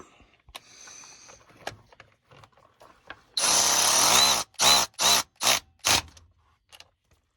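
Power tool tightening bolts on an 18-speed truck transmission during a repair, a sustained one-second run of whirring followed by four short, loud bursts in a steady rhythm, close up after a few faint handling clicks.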